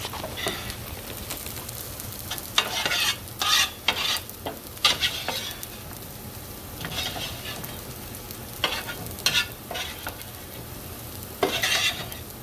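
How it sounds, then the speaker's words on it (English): Potatoes sauté with peppers and onions in a pan, a steady close sizzle broken by repeated scraping stirs of a utensil against the pan, with no voices. "I'm going to start doing my potatoes. Saute that with peppers and onions also."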